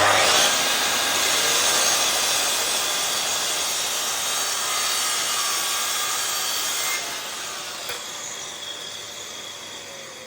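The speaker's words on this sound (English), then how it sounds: "Set your saw 45 degrees, line up." A saw set to a 45-degree angle cuts through timber stock, giving a loud, continuous rasping whine that holds for about seven seconds, then drops to a quieter run-down.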